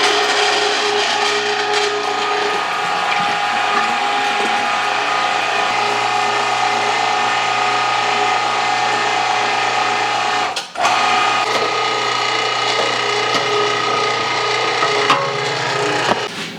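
A meat grinder fitted with a 4.5 mm die runs continuously as sausage meat goes through, a loud close mechanical whir with a steady hum and one brief dip partway, and no voices.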